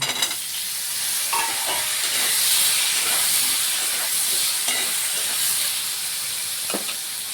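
Potatoes fry in a pan of hot oil for a Bhola fish curry with eggplant, giving a steady sizzle and hiss broken by a few stirring scrapes, with no one speaking.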